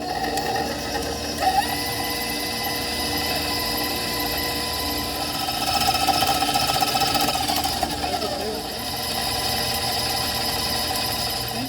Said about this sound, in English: to the bowl of a stand mixer, you're going to add your oil and your brown sugar, and you're going to beat that together on medium speed for about a minute